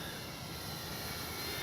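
A Dynam Beaver V2 RC model airplane passes low and slow on its maiden flight, a faint, steady engine buzz with broad hiss sustained throughout.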